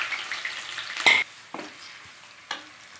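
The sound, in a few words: onions and curry leaves frying in oil with mustard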